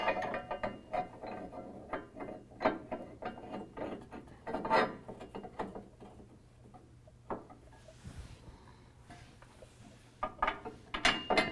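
Ratchet clicking in bursts while bolts are run up through the bottom of the frame to hold the bracket of an ICI Magnum rear bumper on a 2017 Ford F-250 Super Duty, close and moderately loud, with metallic mechanism rattles between pulls.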